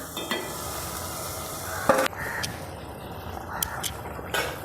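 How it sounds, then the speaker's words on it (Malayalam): Fish curry gravy with vinegar bubbles and sizzles in a pan, a soft steady simmer broken by a few sharp clinks of a spoon against the pan. "ഇനി ചാറൊന്ന് തിളക്കട്ടെ"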